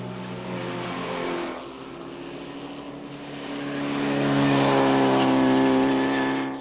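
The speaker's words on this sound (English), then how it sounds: "the roar and whine of race cars" Race cars at Lime Rock Park roar and whine past, one engine fading before another swells louder with a rising, high-pitched whine, heard from trackside at moderate distance.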